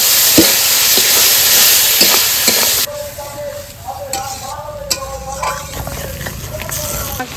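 Ginger-garlic paste, tomato, turmeric, cumin, coriander and dried and green chillies frying in a pan. A loud hissing sizzle with a few scrapes of stirring gives way abruptly to a quieter sizzle with faint tones and clinks, and a voice talks over it.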